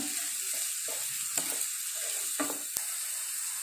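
A steady sizzle of mushrooms and onions sautéing in a pan, with occasional stirring scrapes and light clinks, close up and no voices.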